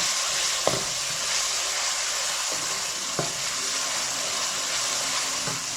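A large onion sizzles steadily in hot oil for a daal masala, a constant close frying hiss with a few soft stirring clicks.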